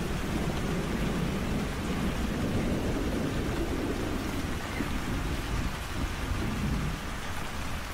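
Heavy rain pours steadily while low thunder rumbles beneath it, a dense continuous roar with no talking, recorded outdoors during a river fishing trip.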